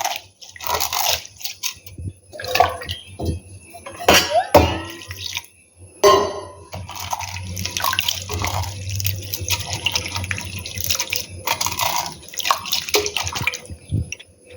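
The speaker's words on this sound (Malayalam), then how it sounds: "അതൊരു കുറച്ച് വെള്ളമൊക്കെ ഒഴിച്ച് നന്നായിട്ടൊന്ന് വാഷ് ചെയ്തൊന്ന് അതിൻ്റെ വെള്ളമൊക്കെ ഒന്ന് ഊറ്റി" Ragi vermicelli is rinsed in water in a kitchen, with close, intermittent splashing and swishing mixed with crunchy, clattering handling sounds and brief pauses.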